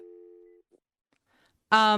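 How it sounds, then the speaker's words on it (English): A steady telephone tone sounds briefly after a caller hangs up, then cuts to silence before a voice begins to speak. "And then you hear the tone as she hangs up."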